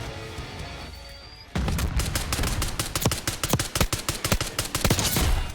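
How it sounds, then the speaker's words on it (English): Submachine gun tap fire in Call of Duty Black Ops 6: short bursts of loud, sharp shots come in a quick uneven rhythm after a quieter lead-in with no talking. "Right there's a perfect example of the tap fire. Now this is with a submachine gun"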